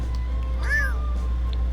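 A cat meows once in The Sims life-simulation game, a short rising-and-falling call over a steady low game hum, with no one talking.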